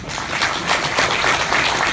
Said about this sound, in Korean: 우리 전임 지사님의 결단에 감사의 박수를 한번 드립니다